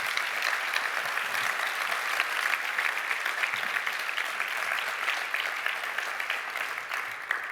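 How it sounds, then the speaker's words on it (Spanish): Sustained strong applause fills a hall at a PSOE party congress in Fuerteventura, dense clapping from a large crowd holding steady for several seconds. "pido un fuerte aplauso para estos compañeras y compañeros."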